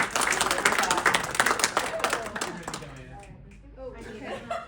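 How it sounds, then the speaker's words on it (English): A meeting group gives a round of applause at a convening, with brisk clapping and murmured chatter that fades after about three seconds into quieter talk and light laughter. "Round of applause"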